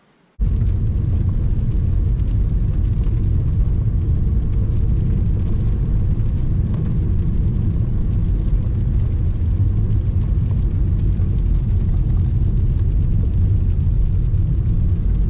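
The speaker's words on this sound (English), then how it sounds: "Doing a sound check around 25 miles an hour on these Trezzos that I've had on the Subaru for quite a while" Steady low road roar of half-worn Trezzo tires on a Subaru rolling at about 25 mph, a continuous broadband rumble heavy in the low end, constant and close from start to finish with no talking.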